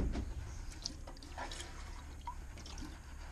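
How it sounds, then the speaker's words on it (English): Water drips and trickles into a cat's water bowl at a shelter, a faint, close patter of small droplets over a low background hum. "So I'm just gonna fill up his water."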